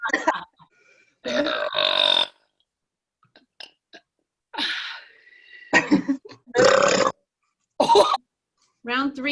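A girl burps loudly several times during a burping contest, with long croaky belches separated by short silences.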